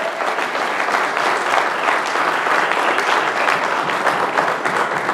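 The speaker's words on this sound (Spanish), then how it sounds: "No nos veo animados para aplaudir, hermanos" A church congregation applauds steadily for several seconds, a full, continuous round of clapping from many people in a hall.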